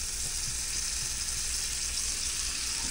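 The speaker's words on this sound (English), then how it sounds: "Put a little more butter in the pan here." Butter sizzles steadily in a hot frying pan for pancakes, with a dense, even hiss and faint crackles close up and no talking.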